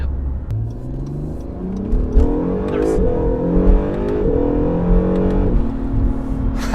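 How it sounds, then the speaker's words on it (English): An Acura NSX accelerates hard, its engine note climbing through the revs in rising sweeps with a gear change partway, heard from close range with occasional speech over it. "That's great acceleration"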